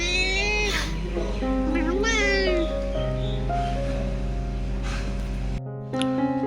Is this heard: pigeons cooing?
no